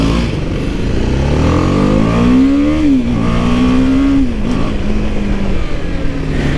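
BMW G310 GS motorcycle exhaust revving up and down in two rising-and-falling sweeps, loud and close, with steady engine drone between revs and no talk.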